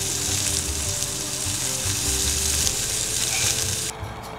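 Lamb skewers sizzle steadily on a grill in northern Iceland, a loud, continuous frying hiss that holds close and even before dropping off abruptly near the end, with no voices.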